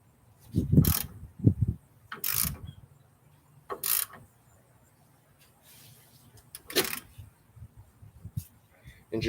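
A nut is tightened while an angle kit is installed on a Foxbody Mustang: several short bursts of close metallic clicking and ratcheting separated by quiet gaps.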